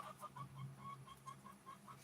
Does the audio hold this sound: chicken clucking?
yes